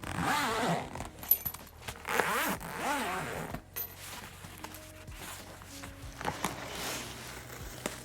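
Zipper pulled open around a harmonium case, with rustling and handling noises of the case and fabric, a few short bursts close by.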